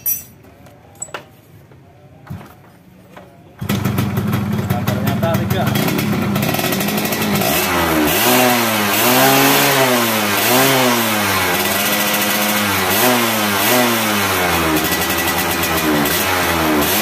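A Yamaha F1ZR two-stroke motorcycle fitted with a replacement original CDI starts after a few quiet knocks, then idles loudly up close and revs repeatedly in rising and falling sweeps.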